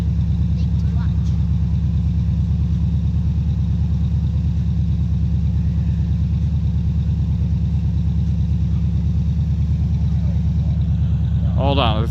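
A 1979 Chevy Impala engine idles with a steady, low, loud rumble that stays even throughout, with a brief higher whine near the end.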